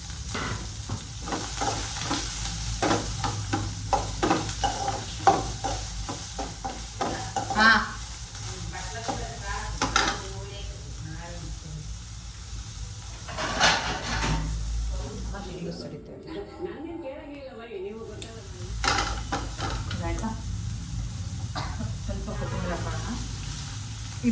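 Onions frying and being stirred in a pan for gobi manchurian in a home kitchen, a steady sizzle with scraping stirs throughout, briefly dropping away mid-way before resuming.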